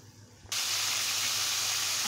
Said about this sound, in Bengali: এখন এটাকে আমি একবারে পোড়া পোড়া করে ভেজে নেব।